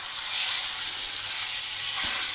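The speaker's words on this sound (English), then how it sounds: "We're going to skin side down first. Get a nice push down into the pan." Lamb shoulder searing skin side down in a hot pan gives a steady, dense sizzle that holds evenly throughout, close up and without any talking.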